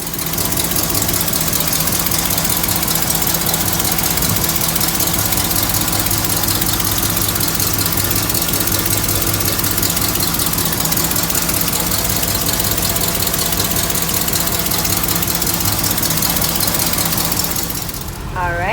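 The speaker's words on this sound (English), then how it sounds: "I'm gonna go ahead and get that engine started." A 1940 Chevrolet Super Deluxe engine runs at a steady idle, loud and close, with an even mechanical rumble and rattle throughout before easing off at the end.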